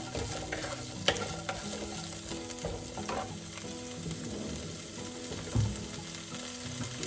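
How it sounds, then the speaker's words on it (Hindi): Beans frying in a pan are stirred with a utensil, a soft steady sizzle under occasional scraping and light clinks, fairly quiet and close, with no talking. "ये डल गई बीन्स और इसको चलाते हैं थोड़ा सा"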